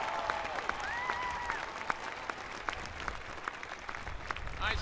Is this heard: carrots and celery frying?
no